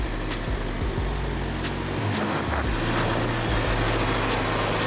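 A new Ford Bronco grinds up a steep off-road climb, its engine a steady low rumble close by, with brief scrabbling and creaking bursts as rear tires lift and bite on the rough trail.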